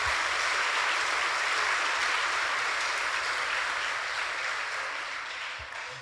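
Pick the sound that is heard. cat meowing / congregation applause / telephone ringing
congregation applause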